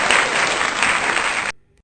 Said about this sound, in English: A round of applause for me for that alternative.